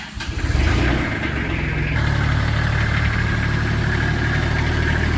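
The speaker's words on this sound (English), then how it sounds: "crank the tractor on and get it moved out the way" A tractor engine cranks and catches, then settles into a loud, steady rumbling idle close by, with a constant low vibration throughout.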